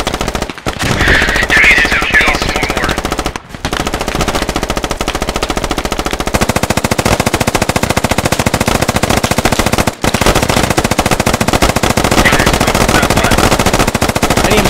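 A 30 mm cannon fires in the Squad video game as loud, dense, unbroken bursts of rapid gunfire that last throughout, with brief gaps and no voices.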